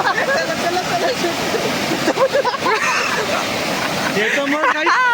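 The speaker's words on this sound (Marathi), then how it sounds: "लो कसला भारी धबधबा आहे हा" A small waterfall near Ghateshwar Shiv Temple, in heavy monsoon rain, rushes with a steady roar while several people chatter and call out loudly over it.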